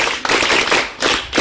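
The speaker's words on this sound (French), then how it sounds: "Acclamez pour lui." Students in a Togolese high school classroom clap for a classmate, a dense, steady patter of hands at close range, pulsing in short waves over a second and a half with no voices.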